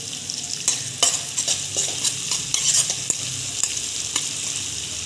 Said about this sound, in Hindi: अब इसमें डालेंगे सबसे पहले प्याज, प्याज को थोड़ा सा भूनेंगे